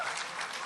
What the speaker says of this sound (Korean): 큰 박수로 다시 한번 감사의 박수 부탁드리겠습니다